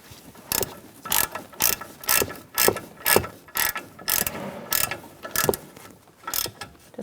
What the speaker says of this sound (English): So now we can put our strut bolt in the back and just get it started.